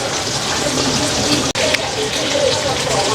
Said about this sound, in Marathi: तर ही अशी एकत्र केली आहेत आणि हे पाणी सोडून देऊया.